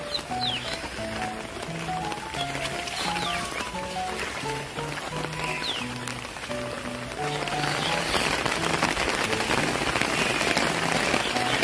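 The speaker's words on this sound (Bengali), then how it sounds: "বৃষ্টি আবার আসলো ধেয়ে" Rain falling steadily outdoors on a village path, a dense continuous patter that swells louder toward the end, with a few clucking chickens and melodic tones in the background.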